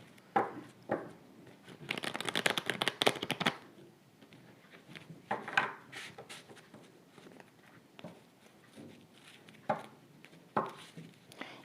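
Tarot cards being shuffled and laid down, soft papery riffles and brief slaps in quiet bursts, close and faint.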